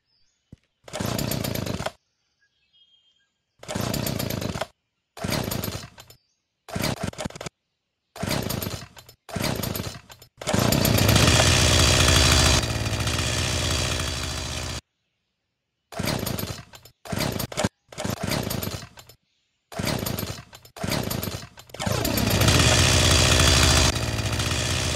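Chainsaw in a video game, revving in repeated short loud bursts separated by gaps, with two longer sustained roaring stretches; no talking.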